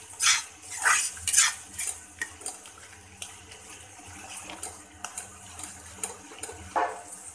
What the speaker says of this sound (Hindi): और हम इसमें डालेंगे एक चम्मच फ्रेश मलाई और अब इसको अच्छी तरह से मिक्स कर लेंगे इस तरह से चलाकर।